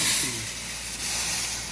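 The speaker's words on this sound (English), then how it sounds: "So is this steam right here?" Steam hissing from a steamer onto a vinyl surf or wake boat seat skin during upholstery work, a steady broad hiss that stays close and constant, with no talking.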